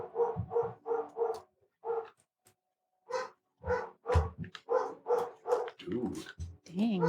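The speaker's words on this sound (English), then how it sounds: "That dog in the rain going crazy." A dog barking in the rain in a quick rhythmic string of sharp barks, then a short pause, then a second louder burst that ends with a few whining yelps.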